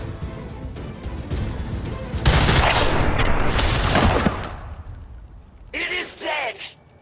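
Video game gunfire, bursts of automatic-sounding shots blasting loud and dense for a few seconds in the middle, with game sounds before and a voice speaking near the end.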